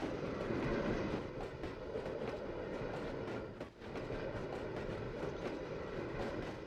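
Steady rumble and rhythmic clatter of a train running on rails in the Trainz 2009 railway simulator, loud and continuous with a brief dip partway through.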